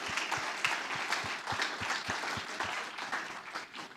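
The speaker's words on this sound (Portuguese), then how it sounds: "Aplauda Jesus na vida desses irmãos." A church congregation applauds steadily for several seconds, a dense, continuous wash of clapping with no voices standing out.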